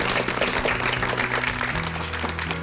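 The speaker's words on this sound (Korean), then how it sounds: "여러분 박수로 맞아주시기 바랍니다" A studio audience on a Korean health variety show claps to welcome a guest, a sustained, fairly even round of applause with steady background music underneath and no speech.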